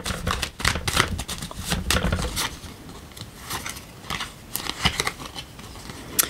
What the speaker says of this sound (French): Ça tombe pas, je coupe et je prends.